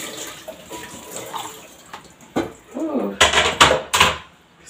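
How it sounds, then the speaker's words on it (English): Water splashing and running as a cooking pot is rinsed to clear out small stones, with irregular loud sloshes and clanks building toward the end over a soft background. "Don't forget to rinse my pot because of the small stones."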